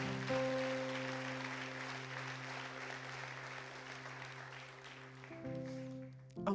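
A church congregation applauds steadily for several seconds, a dense wash of clapping over a sustained keyboard chord that continues as the clapping fades.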